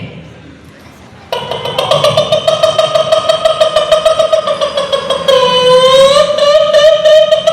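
A performer at a mimicry show on an annual-day stage imitates a hen's clucking call while eating, a sustained, sharply pitched warbling voice that rises and wavers, loud and close after a brief quiet start.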